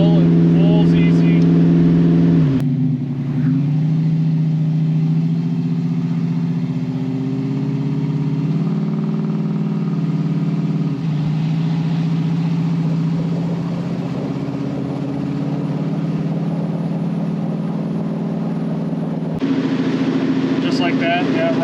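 A 1935 Ford slantback street rod with a 351 cubic inch V8 cruising on the road, its engine a loud, steady low drone from inside the car with a gear change early on, while people talk over it.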